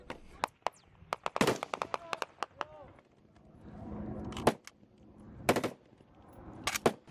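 Bursts of gunfire from enemy fighters during combat in Afghanistan, sharp loud cracks in rapid clusters and isolated single shots, some close and some farther off, spread across the whole stretch with a quieter rumbling lull in the middle.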